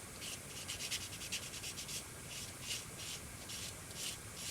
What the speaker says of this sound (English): So I just got to go in there and sand any of the glue up.